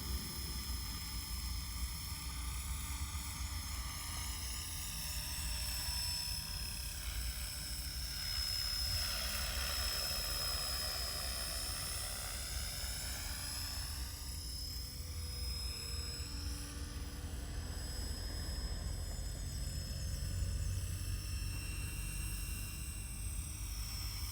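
A Trex 450 RC helicopter fitted with GPS and an H1 autopilot, flying in a continuous high-pitched whine of rotor and motor whose pitch shifts and swells as it moves around, outdoors and without talk.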